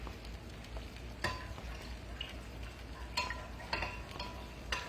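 Tomatoes cook in a pan for hamburger steak tomato gravy, a soft steady sizzle with occasional scrapes and clinks of a utensil stirring, faint and close.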